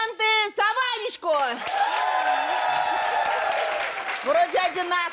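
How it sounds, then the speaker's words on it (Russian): Studio audience at a Russian matchmaking TV show applauds and cheers for several seconds after a host's brief spoken prompt, with talking returning as the clapping fades. "Аплодисменты за Ванечку"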